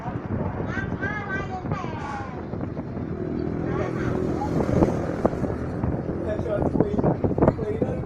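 An airplane engine in a video game drones steadily and rises in intensity, running continuously beneath a player's excited talking.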